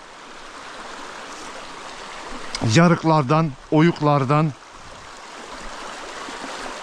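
Creek water runs steadily over stones at a gold-panning spot, a constant broad wash of flow that carries on beneath a brief stretch of a man's speech in the middle.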